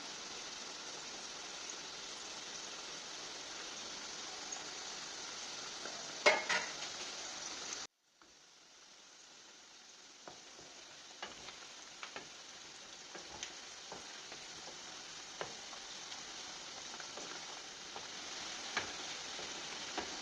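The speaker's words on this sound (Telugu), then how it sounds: "ఇవి ఇలా కొంచెం వేగిన తర్వాత ఇలాగ గోల్డెన్ బ్రౌన్ కలర్ వచ్చిన తర్వాత" Garlic and turmeric fry in oil for a chicken pickle, giving a steady, faint, crackling sizzle with scattered pops, briefly cutting out partway before resuming.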